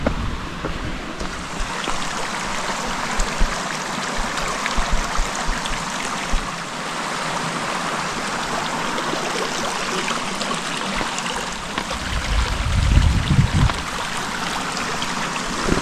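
A small unnamed mountain creek feeding Flat Laurel Creek on a hiking trail, flowing with a steady close rushing and gurgling that swells briefly near the end.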